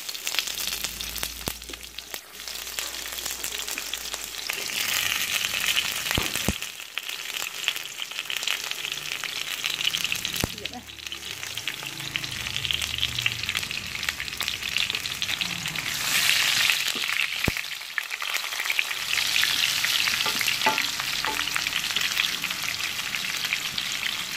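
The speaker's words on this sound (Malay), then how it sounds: "tumis sampai naik bau" Chicken sizzles and fries in a hot pan with ginger, onion and garlic, a steady crackling hiss with occasional stirring and scraping, close up and without talk.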